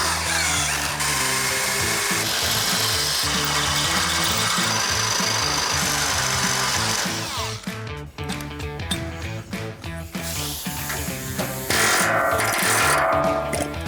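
Close, loud power drill boring out steel rivets on old truck spring hangers, a sustained whining grind that turns into choppy bursts and stops as the bit bites through.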